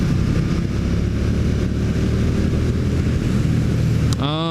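A KTM Super Duke 1290R motorcycle roars loudly and continuously as it is ridden, a sustained engine drone with wind rush that rises into a sharp revving sweep near the end.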